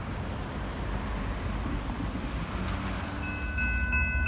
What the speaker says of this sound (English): At least this train wasn't all auto racks, or all double stack